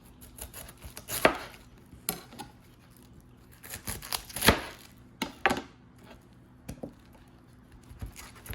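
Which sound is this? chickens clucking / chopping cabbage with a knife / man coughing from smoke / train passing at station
chopping cabbage with a knife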